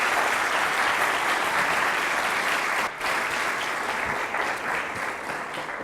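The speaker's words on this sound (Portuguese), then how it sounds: "Uma salva de palmas" An audience at a design talk applauds illustrator André Carrilho with dense, sustained clapping that fills the whole stretch, dipping briefly midway and easing slightly near the end.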